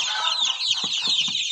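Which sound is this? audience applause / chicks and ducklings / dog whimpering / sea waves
chicks and ducklings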